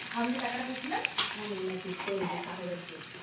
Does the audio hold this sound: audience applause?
no